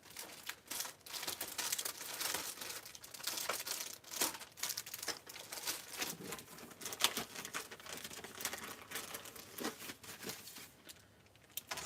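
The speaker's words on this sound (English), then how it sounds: "let me grab a piece of scrap paper" Paper crinkling and crackling as a sheet of scrap paper is handled during card making, with repeated close rustles and crumpling bursts over about twelve seconds.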